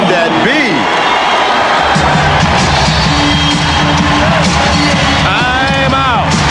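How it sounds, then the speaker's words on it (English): Roaring arena crowd at the 1994 NBA Western Conference semifinal Game 4 between Houston and Phoenix cheers loudly and steadily, a dense wall of noise with whistles and shouts, while a commentator's voice runs over it. "The Phoenix crowd has awakened"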